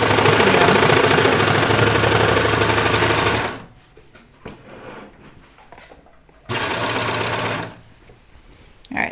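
A sewing machine runs loud and steady as it stitches the underarm seam of a pajama top, stopping for a pause, then running again in a shorter burst before going quiet.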